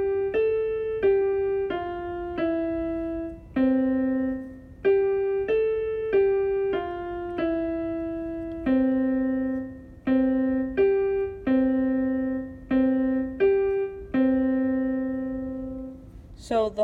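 Right-hand piano melody of Frere Jacques, phrases three and four, played alone as a steady sequence of clear single notes with a few longer held tones, close and moderately loud with no talking.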